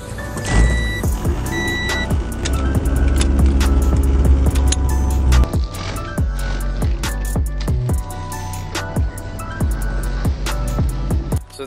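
A 1995 Honda Civic EG with a B16A2 engine, heard from inside while driving: a steady engine drone with a sustained whirring tone early on, then scattered clicks, rattles and knocks as it moves.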